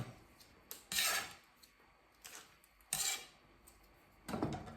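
Sliced cucumbers and onion being mixed in a bowl give a few separate bursts of scraping and clinking, close and fairly quiet, with soft gaps between.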